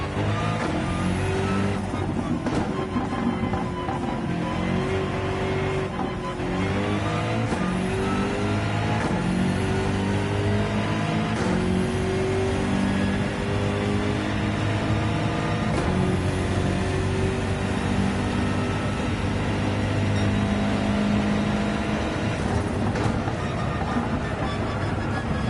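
Steady racing car engine driving in Gran Turismo, a continuous heavy drone with shifting revs and gear changes throughout, loud and unbroken.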